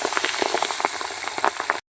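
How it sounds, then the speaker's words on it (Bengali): Pabda fish coated in turmeric and salt fry in hot mustard oil, giving a close, continuous crackling sizzle with scattered pops that cuts off abruptly at the end. "তেল গরম হয়ে গেছে, এবার পাবদা মাছগুলো সব আমি ভেজে নেব।"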